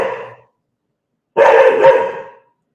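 A dog barking loudly and close, two separate barks with a short silence between them and no other sound.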